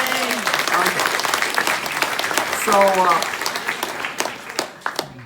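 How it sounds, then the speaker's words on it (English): Conference audience applause at a talk in Dublin, a dense steady wash of clapping from a sizeable crowd that swells, then tapers off toward the end as a few voices and a faint tonal sound rise over it. "Give her a round of applause."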